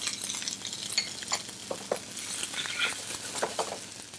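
Diced onions and pointed cabbage sweat in a pan with a soft, steady sizzle and light scraping and stirring, close and continuous with no voices.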